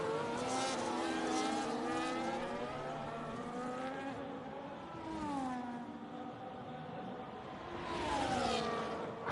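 Race car engines at Monza in a racing video game, with several cars including an Aston Martin, giving a continuous, layered high-pitched whine that rises and falls as the cars shift gear and pass, with no talking.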